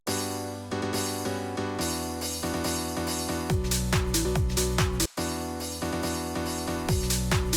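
Crash cymbal hits with reverb inside a dense speed garage mix, bright washes rising over steady drums and bass, a few struck accents decaying into a reverberant tail, no voices.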